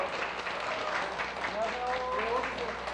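Applause from a small gathering of residents greeting a local council candidate, a dense steady patter lasting about three seconds with a voice speaking over it partway through.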